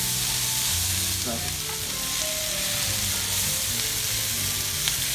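Steak sizzling steadily in a hot pan for Philly cheesesteak while tongs stir and flip it, a dense continuous fry with occasional scraping clicks.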